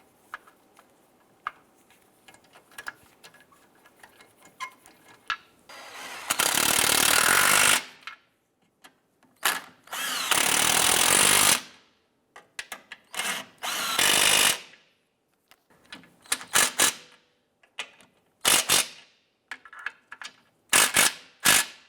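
Power tool driving and tightening the three transmission mount nuts on a 2012-2017 Toyota Camry, heard as several loud, sustained bursts of varying length separated by short pauses and scattered clicks and clanks.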